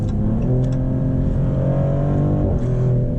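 A 2025 Maserati GranCabrio Trofeo accelerates hard, its engine heard from the cabin as a loud, continuous rising growl with climbing tones, a brief dip as it shifts gear, then the pull resumes, with no talking.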